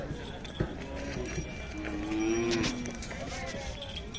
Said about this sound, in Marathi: पाहू शकता गाय हलीकर मिक्स केलेल्या गायी